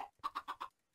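Minecraft chickens in the Curse modpack clucking, with four quick, evenly spaced clucks after a short opening call, each one clear and close, and no talking over them.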